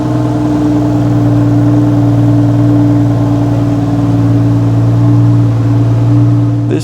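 A Brabus Bodo V12 engine runs at a loud, close, steady idle with a deep droning rumble and a slight rise in revs near the end.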